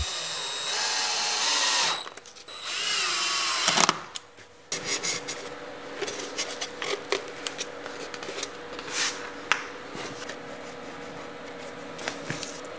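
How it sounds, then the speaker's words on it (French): A power screwdriver drives screws into an upper transition profile over a cork floor, with a couple of sustained whirring bursts up front followed by scattered short clicks, scrapes and rubbing as the profile is fitted. "Puis, tu visses le profilé supérieur dessus."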